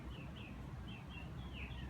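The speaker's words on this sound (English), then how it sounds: "You hear the birds singing." Faint chirping birdsong drifts over a low, steady rumble of outdoor background noise, a few thin twittering phrases scattered across a couple of seconds.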